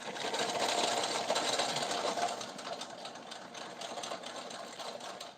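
Monofilament line winds onto a left-handed fishing reel, 160 yards in all, as a steady close mechanical whir that runs loud, then eases slightly toward the end.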